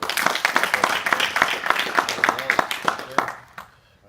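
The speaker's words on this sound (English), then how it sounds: "So big round of applause again." Clapping for a blue belt promotion at a Brazilian jiu-jitsu gym, Alvarez BJJ in Arlington, Texas: a small group claps in quick, distinct close-up hits that continue for several seconds and then stop abruptly.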